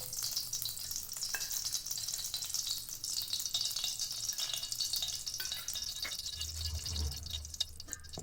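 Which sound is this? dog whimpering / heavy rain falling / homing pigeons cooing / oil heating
oil heating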